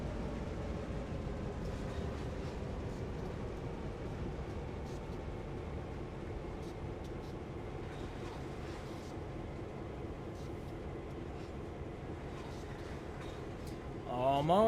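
Freight cars rumble and clank in Train Sim World 2020 on the CN Oakville Subdivision, a low continuous rolling drone with scattered metallic knocks, fairly quiet throughout and swelling slightly at the very end.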